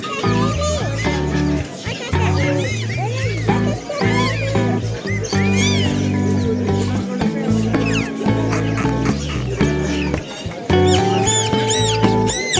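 A colorful duckling chick peeps in repeated high, thin chirps, heard close up over steady talking and a loud, droning background throughout.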